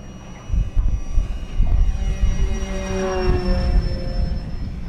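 FMS Super EZ V4 radio-controlled electric airplane with a 1220 mm wingspan making a fast full-throttle upwind pass, its high propeller whine loud and close, then shifting in pitch as it passes amid wind rumble.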